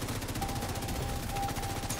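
Rapid automatic gunfire in a shooter video game, a dense steady rattle of shots running throughout at close range with no voices over it.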